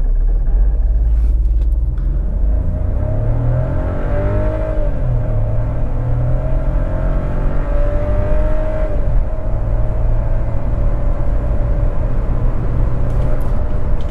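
A 2020 VW T-Cross 200 TSI engine roars and revs continuously under hard acceleration from a brake-torque launch, a loud close rumble with engine pitch climbing and shifting throughout, with no voices.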